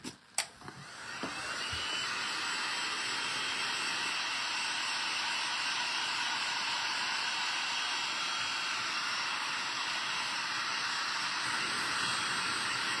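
A heat gun or dryer blowing over screen-printed ink on a tea towel: a few clicks and knocks as it starts, then a steady loud whooshing hiss that runs without a break.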